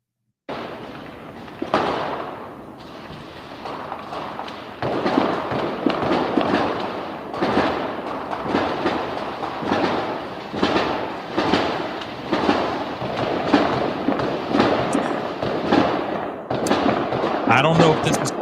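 Sustained bursts of gunfire from a shooting incident, with many sharp reports in irregular clusters over about eighteen seconds, heard from a distance on a fairly noisy recording.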